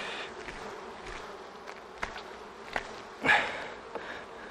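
Honeybees crawl and hum on a honey frame lifted from a hive during a beekeeper's honey harvest: a faint, steady buzz with a few soft knocks and one brief louder rustle.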